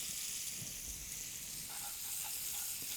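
Filet mignon sears in a hot pan with a soft, continuous hiss and sizzle, heard up close but faint, with no talking.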